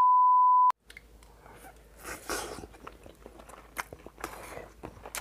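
A brief electronic beep opens, then close-up biting and crunchy chewing of rice cooked with sea cucumber, with moist mouth sounds and no speech.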